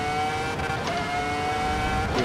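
An F1 car in Assetto Corsa EVO at Mount Panorama screams at high revs, its sharp whining engine note climbing and shifting through gears as it accelerates, loud and close throughout.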